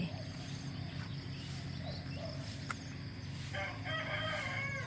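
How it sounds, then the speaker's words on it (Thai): A rooster crows in the background during a morning walk by rural Thai rice fields, with a second longer crow near the end, over a steady low hum and faint outdoor ambience. "ดูน้องไก่นะคะ ดูน้องไก่ดูน้องไก่"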